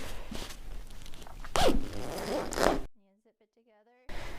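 Zippers on a women's Nemo Disco 15-degree sleeping bag run in two long rasping pulls, close up, then a brief voice in a quiet gap before the zipping noise resumes.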